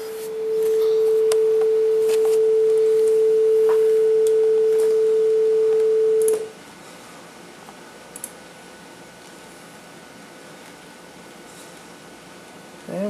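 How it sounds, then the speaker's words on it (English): A steady pure 440 Hz sine wave tone, the A above middle C, sounds for about six seconds, then stops abruptly, leaving quiet background hiss. "we have a sine wave of 440 hertz playing"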